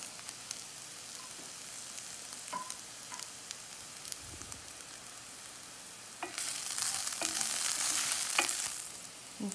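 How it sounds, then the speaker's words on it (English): Mustard seeds and curry leaves sizzle in a pan of hot oil, faint crackling and popping at first, then a louder, sustained hiss as more goes in, with no voices. "Now I'm going to add some mustard seeds."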